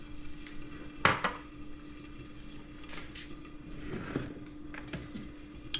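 An egg fries over medium in a pan with a splash of water, giving a soft, low crackle broken by a few sharp clinks and scrapes of a utensil against the pan.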